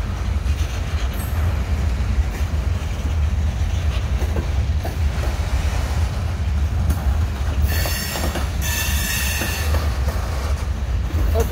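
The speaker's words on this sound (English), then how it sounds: "Wow, it's a long train." Long train rolling past close by, a loud continuous rumble of railcars with rhythmic wheel clatter on the rails and bursts of high metallic wheel squeal near the end.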